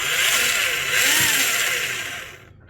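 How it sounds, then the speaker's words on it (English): A Tamiya Blackfoot RC truck driving forward and then in reverse, its motor giving a close whine that rises and falls in pitch before cutting off abruptly. "Let's go ahead and hit the throttle for forward. Then reverse."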